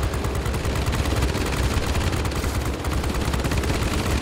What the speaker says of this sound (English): the belly gunner is also possibly firing as well